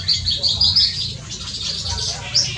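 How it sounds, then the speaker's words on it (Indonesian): Many birds, including species from outside Java, chirp and tweet in an aviary, with high, bright calls repeating in quick bursts over a low background rumble. "Biasanya sih burung-burung luar Pulau Jawa yang kita tampung di sini yang masih ada ya."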